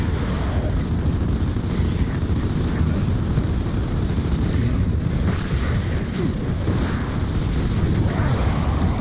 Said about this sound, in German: Interessant, dass die immer noch mal explodieren, nachdem sie drauf gehen.